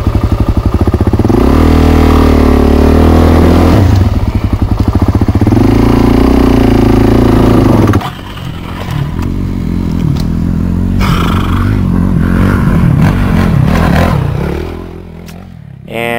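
Honda CRF450RL dirt bike climbing a trail of loose rocks, its engine loud and close, revving hard and bogging with shifting pitch, then a rougher stretch of throttle bursts mixed with clattering rock and tire scrabble.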